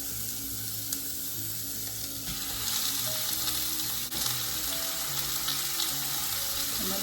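Ground beef sizzling and frying in a pan, a steady loud crackling hiss that holds throughout with faint clinks of cookware.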